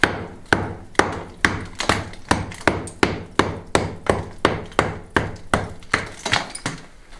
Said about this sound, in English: Doing a bit of that old judicious tapping.